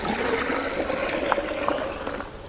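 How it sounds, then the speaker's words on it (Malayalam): About half a bucket of water is poured into a biogas plant, a continuous splashing and gurgling flow that fades out near the end, with no voice over it. "അപ്പോൾ ഒരു 5-6 ലിറ്റർ വെള്ളം അതിനകത്തോട്ട് ഒന്ന് ഒഴിച്ചു കൊടുക്കാം."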